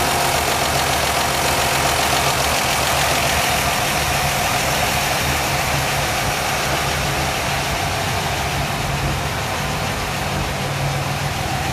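A 1958 Chevrolet car engine idles steadily up close, a constant rough exhaust rumble with no voices.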